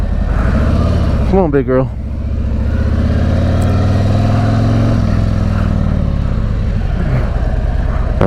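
Engine of a 2020 Harley-Davidson Tri-Glide three-wheeled trike, steady and close, rising briefly in pitch as the clutch is feathered, with someone talking over the running motor.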